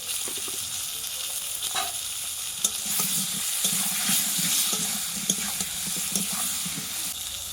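Potatoes fry in hot oil in a pan, seasoned with salt and a little turmeric, for a katla fish curry; a steady close sizzle with light stirring and scraping clicks, no voices.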